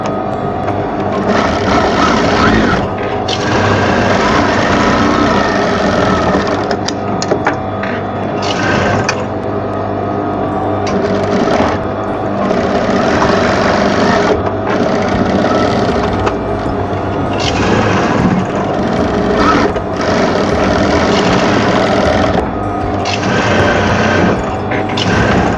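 A sewing machine runs continuously and loudly while stitching an apron sleeve, its motor whirring with only slight dips in pace.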